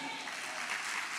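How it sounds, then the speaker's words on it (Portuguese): Church congregation applauding together, a dense, steady patter of clapping heard from a moderate distance with a faint voice underneath. "Dê um aplauso ao Senhor."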